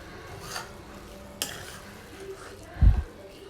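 Spring onion and egg fry with turmeric being stirred in a pan, a soft scrape and faint sizzle, then a louder clunk of the spoon against the pan near the end, no talking.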